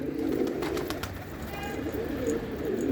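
Pigeons cooing steadily on the ground on a sunny evening, a continuous low throaty murmur from several birds close by, without talking.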